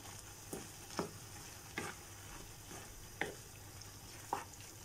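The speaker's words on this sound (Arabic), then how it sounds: "وهنقلب بقى الخلطه الجميله دي اهو" Fried eggplant mixture being stirred in a pan with no oil, a utensil scraping in a few spaced, distinct strokes over a faint steady background hiss, close and fairly quiet.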